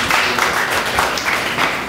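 Congregation clapping in praise at a church service, a dense, steady wash of many hands close by with no pauses, filling the short moment on its own.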